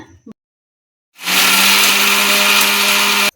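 An electric mixer grinder grinds roasted spices, including dried chillies, into sambar powder. After a short pause, its motor kicks in with a loud, steady, whirring whine that runs for about two seconds and then cuts off abruptly.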